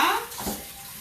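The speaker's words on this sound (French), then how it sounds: "je rince ma casserole" A cooking pot is rinsed under running water, with a brief splashing gush that fades into a softer trickle and a faint knock of the pot, all in one second.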